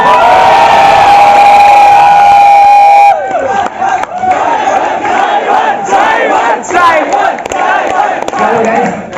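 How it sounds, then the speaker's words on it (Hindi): A large crowd of college students at Kiet Group of Institutions in Ghaziabad shouts and cheers loudly and continuously, the roar swelling after a sustained tone fades out. "4 घंटे से चिल्ला रहे हो।"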